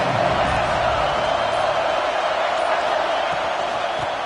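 A huge stadium crowd at a Michigan vs Ohio State football game roars in a dense, continuous wash of cheering and noise, loud and steady throughout.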